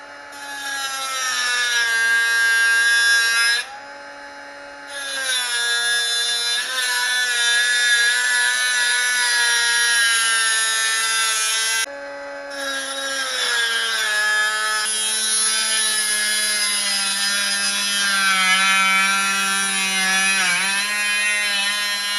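A power tool trims a VW Beetle rear valance in a steady, loud, whining grind with a rasping edge. It runs almost without a break, with two brief dips in pitch and level.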